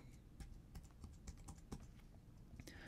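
Someone types code on a computer keyboard while writing a script in the SoundFlow Editor: quick, close, irregular key clicks in a continuous run.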